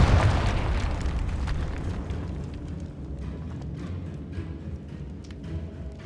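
A Confringo fire spell exploding in Hogwarts Legacy, a loud deep boom at the onset that decays into a rumbling, crackling roar fading slowly over several seconds.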